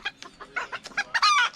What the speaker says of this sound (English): There's one of my hens.